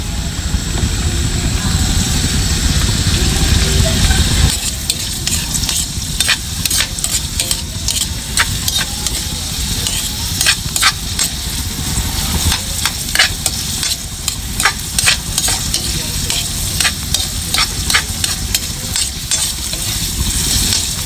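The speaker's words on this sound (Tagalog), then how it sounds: "Pwede na po natin pagsamahin yung mag-asawang bawang at sibuyas." Garlic and onion sizzle and fry loudly in hot oil in a pan, a dense continuous crackle with repeated sharp scrapes and clinks of a utensil stirring close by.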